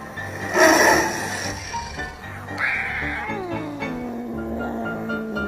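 A cat meows in a few drawn-out, rising and falling cries over steady background music, fairly close and clear.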